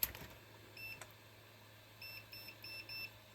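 A multimeter on its continuity setting, used to test the pins of a broken USB power socket on a dashcam, gives short, faint electronic beeps in a quiet room, first a single chirp and then a quick run of them.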